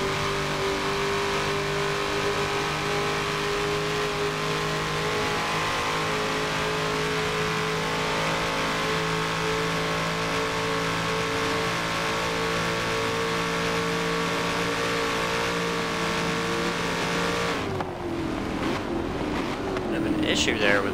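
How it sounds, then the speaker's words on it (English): A V8 race car engine in a Forza racing game at Daytona drones steadily at high revs for most of the stretch with faint wind noise, then the pitch drops abruptly near the end as the car slows. "Listen to a V8 for a little bit."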